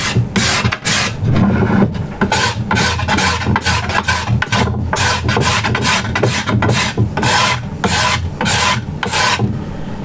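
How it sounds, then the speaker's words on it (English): A card scraper drawn over wood, peeling off fluffy shavings in a quick, steady run of close rasping strokes, each scrape short and crisp with brief gaps between. "if I start to drop the scraper down, this is where it grabs"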